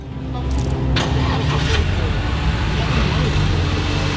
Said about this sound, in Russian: Дмитрий Азаров лично сел за руль новой «Нивы», завел автомобиль